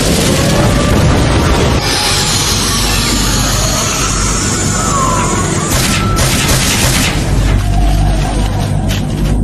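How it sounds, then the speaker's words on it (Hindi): Fire-style flame bombs in an animated battle scene erupt in a loud, dense roar of booming blasts with sweeping whooshes layered on top, sustained and close throughout. "Fire style flame bombs!"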